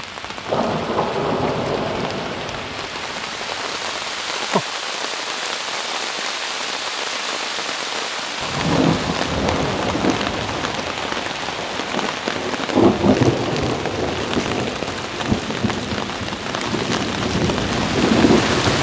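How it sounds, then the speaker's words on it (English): Heavy rain approaches and pours in a dense, steady roar in a canyon, with low rumbles of thunder rolling underneath; a brief lull midway before the downpour swells again. "almost like maybe it's another wall of rain coming"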